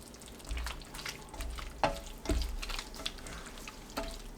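Green onions being stirred in a pan, a few loud scraping and clattering strokes with soft sizzling between them, close and short with no voices.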